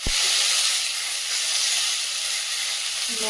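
Bitter gourd and potato hit a hot pan of cumin tempering with a sharp burst and then sizzle loudly and steadily, a bright continuous hiss close up.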